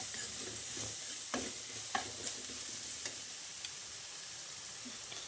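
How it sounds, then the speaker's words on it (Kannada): Pasta being stirred and mixed with garam masala and pepper powder in a pan: a soft continuous sizzle with a few light scraping taps from the spoon, close and fairly quiet, no voices. "ಈಗ ಇದಕ್ಕೆ ಗರಂ ಮಸಾಲ ಮತ್ತು ಪೆಪ್ಪರ್ ಪೌಡ್ರು ಹಾಕಿ ಚೆನ್ನಾಗಿ ಮಿಕ್ಸ್ ಮಾಡಿಕೊಳ್ಬೇಕು"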